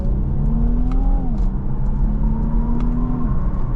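A 2022 Infiniti Q50 Red Sport 400 accelerates hard under load, its engine note climbing steadily in a loud, continuous interior drone with a brief dip as the transmission shifts before pulling on.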